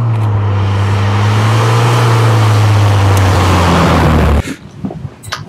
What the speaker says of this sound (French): à entendre ta voiture vrombir